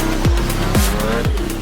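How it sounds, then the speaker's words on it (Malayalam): A little cartoon car in a children's story starts its engine and zooms off, heard as three quick downward-sweeping engine whooshes one after another, loud and close with no voices. "കുഞ്ഞിക്കാർ തന്റെ എഞ്ചിൻ സ്റ്റാർട്ട് ചെയ്തു. ബ്രും, ബ്രും."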